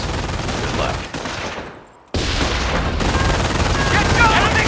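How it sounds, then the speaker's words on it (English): Sustained machine gun and rifle fire from a World War II battle in Company of Heroes, a dense, loud barrage of rapid shots that dips briefly into near silence partway through, then resumes at full intensity. "destroy the enemy machine gun team defending this farm"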